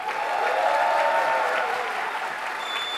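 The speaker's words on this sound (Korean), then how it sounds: "힘차게 응원의 박수 부탁합니다" Party members at a Gyeonggi provincial party convention respond to a candidate's speech with a smooth, sustained wash of applause that sounds distant and blended, holding steady for about three seconds.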